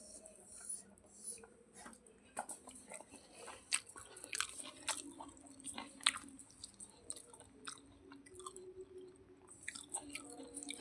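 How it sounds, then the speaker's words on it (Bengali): A person chewing rice late at night, with soft, intermittent wet mouth clicks and squishy bites scattered across a mostly quiet room, close and faint, with a brief louder knock at the end. "রাত্রি 11টা বাজে আমি ভাত খাচ্ছি"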